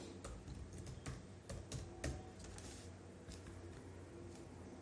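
Faint, irregular clicks of keys on a computer keyboard tapping out code, with scattered quick strokes over a low background hiss.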